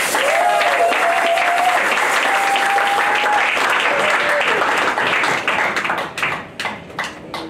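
An audience at a celebration event applauds a co-host, a loud, sustained roar of clapping with a few cheers that gradually breaks up into fewer, sharper individual claps near the end.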